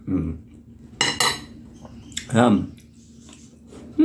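Dried squid eaten in one big mouthful with bottle gourd and sweet potato, crunchy chewing bites and utensil clinks sounding up close in short bursts over a steady low hum.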